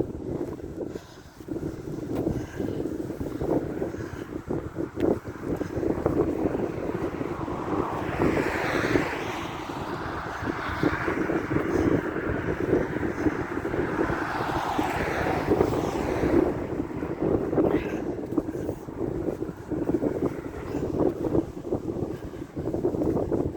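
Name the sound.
strong wind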